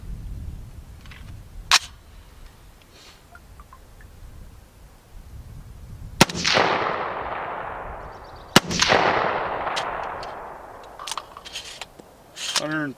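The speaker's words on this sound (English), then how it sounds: "We're going to fire once without anything and set the bar" Single loud unsuppressed gunshots from a .224 Valkyrie coyote rifle crack sharply outdoors, each followed by a long decaying echo, with a few softer clicks and handling noises around them.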